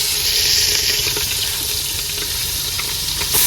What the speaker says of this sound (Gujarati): તો કંઈક આ રીતનું ભાઈ જો અત્યારે ડુંગળી પાકી રહી છે